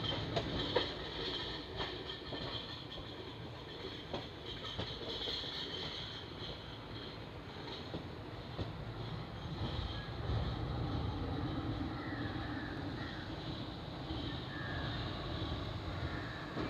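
The Koyna Express (11029), running from Mumbai toward Kolhapur, rolls along the rails as heard from on board. It makes a steady, fairly quiet rumble with a continuous rattle of the coaches and faint clicking over the track.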